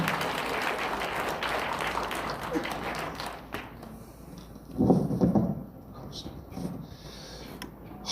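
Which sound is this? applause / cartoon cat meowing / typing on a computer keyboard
applause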